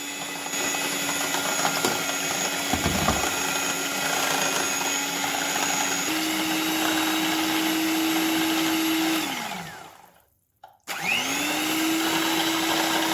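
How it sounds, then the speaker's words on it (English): A blender whirs steadily as it mixes sugar, oil and milk for a dessert batter, a loud continuous motor drone that cuts out, drops to near silence for a moment, then spins back up. "in a blender, add 3/4 cup sugar, 1/2 cup oil, 1/3 cup milk, and blend everything well until smooth"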